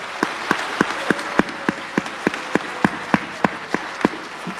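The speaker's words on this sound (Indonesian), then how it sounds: "Boleh tepuk tangan yang meriah Bapak Ibu." A seminar audience on boosting sales claps in unison, about sixteen sharp rhythmic claps at an even, brisk pace, close and moderately loud.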